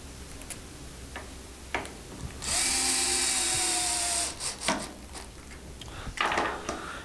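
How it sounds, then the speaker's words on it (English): Power driver sinking screws into the servo mount of an Arrma 3S RC car, one steady whirring run of about two seconds with light clicks and handling ticks before and after, close and alone. "We'll go ahead and put some screws in the servo to hold it in place here."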